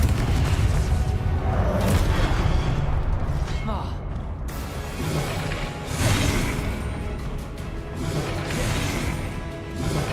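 A Confringo fire spell blasts in Hogwarts Legacy, heavy booming crashes over a continuous loud rumbling game soundscape, with a voice speaking during it.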